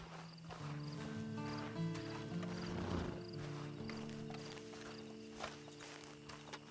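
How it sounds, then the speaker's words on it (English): Horse hooves clip-clopping in Red Dead Redemption Online, a steady walking rhythm over sustained music, with an occasional faint whinny. "Then you better get on this horse."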